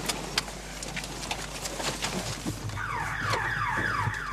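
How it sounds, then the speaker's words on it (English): A house alarm in Johannesburg goes off after a team scaling the back walls hits an electric fence. Repeating sweeping electronic tones sound over rustling and footsteps, moderately loud and slightly distant. "it hits an electric fence and triggers the house alarm"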